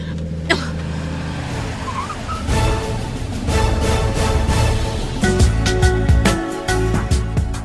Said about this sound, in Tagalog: Ipreno ka dagos ti lugan.